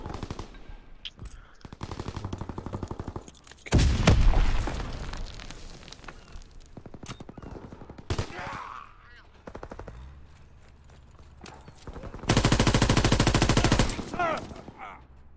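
Gunfire in the World War II shooter Call of Duty WW2 on PS4: loud bursts of automatic weapon fire and single shots, with a heavy burst near the start and another sustained stretch of rapid fire near the end, amid game ambience.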